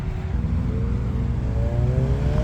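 A single-turbo Honda Civic pulls in at a car meet, its engine note rising steadily as it revs, heard close and loud throughout with no talking.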